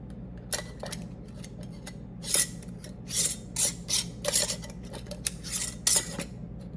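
A metal band is screwed by hand onto a glass canning jar of beans, turned only fingertip tight, giving a close series of short scraping, rasping twists with brief pauses between them.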